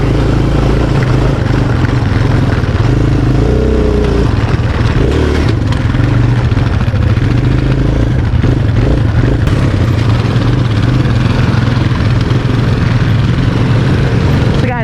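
A quad ATV rides over a rutted trail at the Mines & Meadows park, its engine droning loud and close the whole way, with rough clattering and some revving as it bumps along.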